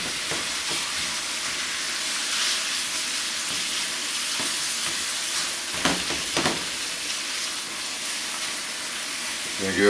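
Chili with Italian sausage and Rotel fries in a pan with a steady close sizzle while a utensil scrapes and stirs, breaking up the meat and turning it over.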